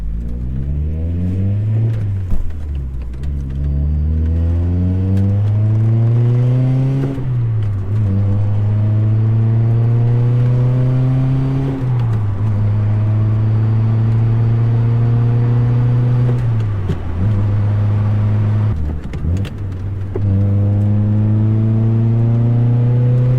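Honda Prelude driving and accelerating, heard from inside the car, its engine climbing repeatedly through the gears with clear shift dips, steady and loud throughout with no talking.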